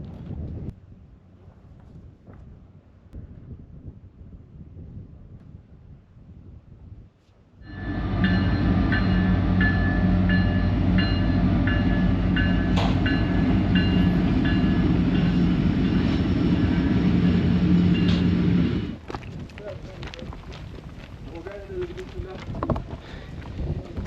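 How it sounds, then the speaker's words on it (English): A heavy iron ore freight train in Mauritania rumbles in loudly after a quieter stretch with faint talk, a sustained rolling roar with metallic squeals for about ten seconds before easing off. "So all of a sudden the train arrived."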